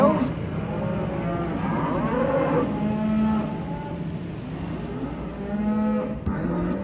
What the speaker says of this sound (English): And all the cattle are getting a bit vocal now.